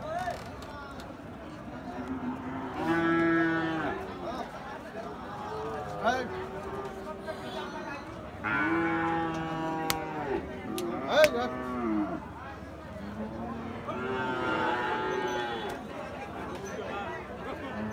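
Gir and Sahiwal bull calves at a cattle market moo several times, drawn-out and nearby, over a background of crowd chatter, and someone talks close to the microphone.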